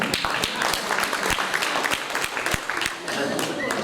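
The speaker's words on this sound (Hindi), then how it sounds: "देखो, जोरदार तालियां बजा दीजिए" Audience applause at an honouring ceremony for an Indian Idol winner, a dense, steady patter of many hands clapping nearby, with voices and crowd noise mixed in throughout.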